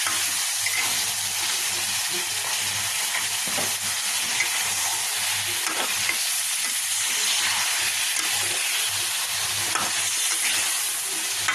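Chicken and potatoes sautéing in mustard oil with spices, as oil separates from the masala: continuous dense sizzle and hiss from the pan, close and steady, with occasional stirring scrapes.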